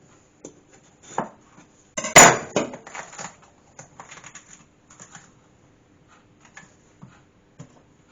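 A knife chops bell peppers on a cutting board in sparse, irregular close knocks, with one louder cluster of cuts and scattered lighter taps, no talking.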